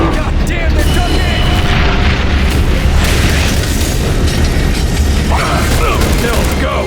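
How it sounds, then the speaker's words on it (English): Explosions in The Bureau: XCOM Declassified, heard as a dense, loud barrage of booms, blasts and mechanical rumble across the whole stretch, with voices shouting amid the din. "Get ready for big booms."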